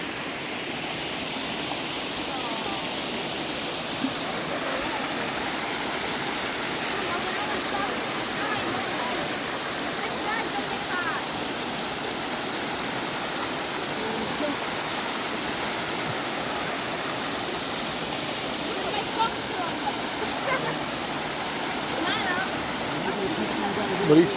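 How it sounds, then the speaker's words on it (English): Creek water rushing steadily at Hells Hollow Falls in McConnells Mill State Park, a continuous broadband roar close by with no pauses. "creek running down through here."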